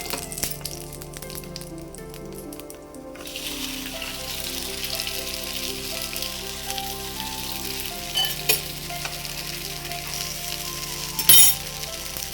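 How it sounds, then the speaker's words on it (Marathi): Two flatbreads roast together on one hot tawa griddle for an Ashadhi Ekadashi fasting meal, with a steady low sizzle and hiss, a faint hum underneath and a brief clink near the end. "एका तव्यावर दोन टाकलं तर ना लवकर भाजून निघतील"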